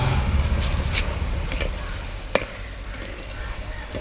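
Onion pakoda frying in hot oil gives a steady, bubbling sizzle throughout, with a few sharp clinks of a utensil against the pan, close and fairly loud.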